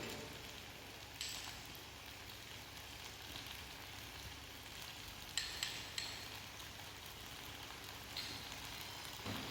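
Hara bhara kebab mixture cooking in a pan, a steady soft sizzle and crackle with a few sharper clicks, moderately faint and continuous with no voices.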